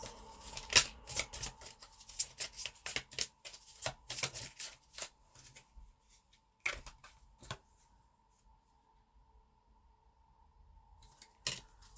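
Tarot cards are shuffled by hand nearby in dense bursts of quick flicking riffles, then settle into sparser single snaps and a long quiet stretch with a faint steady hum before one last card slap.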